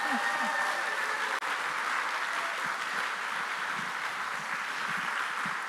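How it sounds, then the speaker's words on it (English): Sustained applause from a conference audience fills the hall, a dense steady wash of clapping at even loudness throughout, with a faint tone fading early on. "again, a round of applause"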